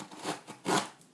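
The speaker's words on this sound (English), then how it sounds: "I'm going to cut open this box and wala akong cutter, so I'm just gonna use my scissors" Scissors slice into a cardboard box in two quick, faint crunching snips close by, the second sharper and louder, with no talking.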